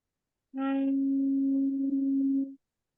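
A single clear peace tone chime rings out, steady and pure, holding for about two seconds before stopping abruptly.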